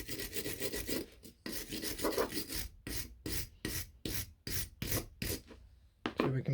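An old chisel made in England rubbed clean by hand, close rasping strokes in a steady back-and-forth rhythm, first a long continuous scrub and then a run of short, evenly spaced strokes.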